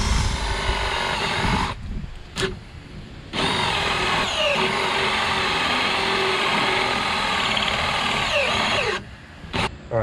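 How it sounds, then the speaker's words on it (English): Power drill cutting a countersink for a 1.5-inch bearing during a power catamaran build, loud close grinding whir running in long bursts with short pauses and brief restarts between them. "Alright, so I just countersunk for this bearing."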